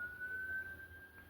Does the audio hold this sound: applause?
no